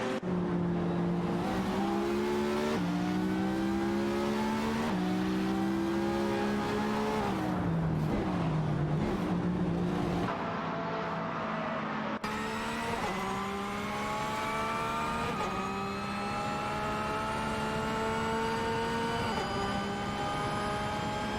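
A BMW 134 Judd and a Fittipaldi F7 race in an AI racing game, their engines whining loudly with rising and falling pitch through gear changes, one long continuous drone of overlapping cars.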